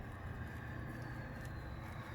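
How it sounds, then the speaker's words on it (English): A big diesel truck idles in the background of a suburban yard, a low, steady engine rumble heard from a distance without any voices. "That's why you can hear the neighbor with the big diesel truck in the background."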